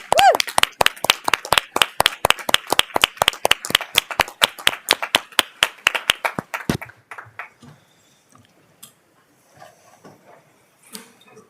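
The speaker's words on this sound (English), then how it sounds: "So why don't we give a big round of applause to Councilmember Kamen, who now will be." Applause comes from people at a county commissioners court meeting, heard as a few close, distinct claps in a fast, irregular rhythm that stop abruptly after several seconds, leaving quiet room noise with faint movement.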